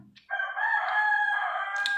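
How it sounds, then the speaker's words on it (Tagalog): A rooster crows nearby in one long, loud, sustained call that rings out clearly after a brief quiet start. "Ang ingay mo naman, manok."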